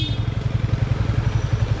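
Motorcycle engine rumbling steadily on a rural road, a close, throbbing low pulse with a quick even rhythm, no talking.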